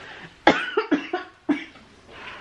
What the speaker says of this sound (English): I'm coughing, but I swear I don't have the Rona.